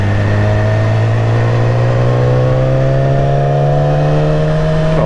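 A motorcycle engine drones loud and close throughout a ride, its pitch climbing steadily as the bike accelerates, with a rushing layer of wind noise underneath.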